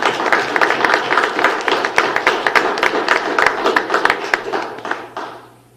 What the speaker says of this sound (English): So please join me in another round of applause for Betsy for all the work you've done.